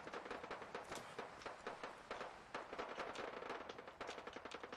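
Gunfire in the video game Fallout 4: rapid bursts of shots crackle in a dense, uneven stream, fairly distant and faint, with no talking over them.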